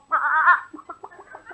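Farmyard chickens being fed corn, one drawn-out squawking call followed by a quick run of short, close clucks.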